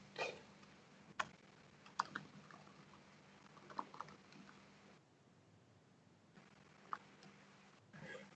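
Faint, scattered keystrokes on a computer keyboard during an Azure resource exploration session, sparse clicks over a low steady background hum, no talk.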